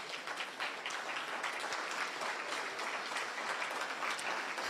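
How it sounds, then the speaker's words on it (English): Steady applause fills a room at a college business luncheon as corporate sponsors, partners and patrons stand, moderately distant and even throughout. "please stand all over the room so we can give you a round of applause"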